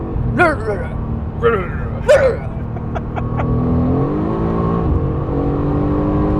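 A Mercedes-AMG GT R engine rumbles loudly and continuously with a violent burble, its pitch shifting as it revs, while a voice speaks over the start.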